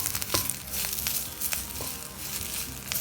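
Curry leaves fry in a pan with a crackling sizzle, punctuated by sharp pops and a few scraping stirs, close and moderately loud with no talking.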